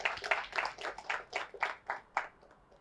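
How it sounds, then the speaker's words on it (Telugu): Audience clapping at a 9th anniversary celebration, heard as a thin, fairly faint run of separated claps in a steady rhythm, about a dozen strokes with no talking over them. "ఒకసారి గట్టిగా చప్పట్లు కొడదాం"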